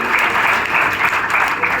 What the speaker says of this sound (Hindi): उसकी भी ताली बजाओ बजा के